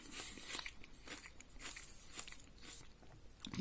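Crisp bites into a ripe Korean Shinko Asian pear, a giant Pyrus pyrifolia fruit, give a series of close, wet crunches with juicy crackling at an irregular chewing rhythm, with no talking.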